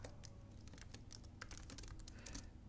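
Quiet, steady tapping of a computer keyboard as code is typed, irregular clicks in quick runs with no talking.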